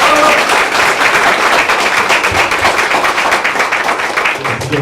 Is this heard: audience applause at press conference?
yes